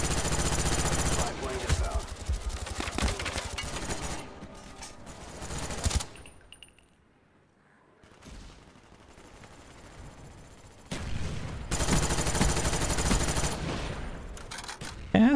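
Rapid bursts of automatic gunfire and shots ring out in a Call of Duty Black Ops match on PS3, loud and dense in long stretches, dropping to a quiet lull midway before heavy firing resumes, with a voice talking now and then.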